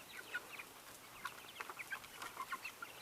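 Chickens cluck softly and repeatedly inside a chicken tractor on pasture, a steady scatter of short low-level calls from a few birds close by with no talking.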